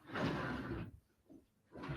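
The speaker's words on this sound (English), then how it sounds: "I close the door, I think." Indoor door being closed, a pair of soft muffled thuds and slides separated by a short quiet gap, faint and close.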